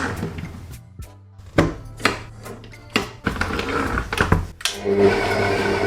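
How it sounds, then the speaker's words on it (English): Stand mixer combining pizza dough ingredients, a motor whir broken by irregular knocks and thuds as the dough churns in the bowl, fairly close and loud. "I would highly suggest that you use a stand mixer."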